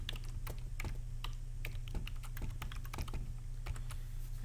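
Login email and password are typed on a computer keyboard: a steady run of close, quick key clicks over a low background hum, with no talking.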